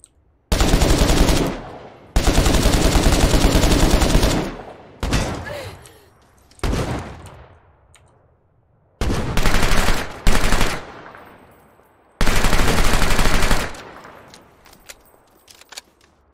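Video game gunfire in The Culling 2 on PC: several loud bursts of rapid automatic fire, each a second or two long, separated by short pauses and single sharper shots, with a faint voice in the background.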